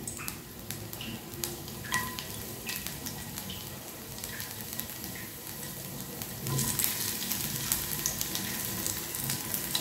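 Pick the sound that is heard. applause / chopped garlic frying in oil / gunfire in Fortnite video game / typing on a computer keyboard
chopped garlic frying in oil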